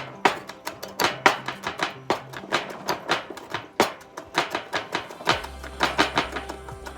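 Guacamole ingredients being chopped with a knife on a board, a quick run of sharp, close, evenly spaced chops with no voices.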